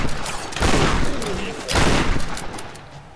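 Two loud, broad shotgun blasts in Tomb Raider about a second apart, each with a short ragged tail, set against steady background noise.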